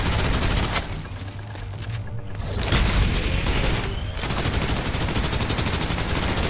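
Rapid, continuous automatic gunfire in the video game Snowbreak during a boss fight, dense and loud throughout with hardly any pause.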